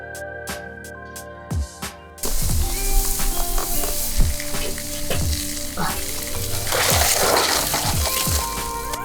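Barbecue pork ribs being glazed with sauce on a grill set to 300 degrees: a loud, steady sizzle and crackle start abruptly after a brief musical intro, with scraping and handling sounds throughout.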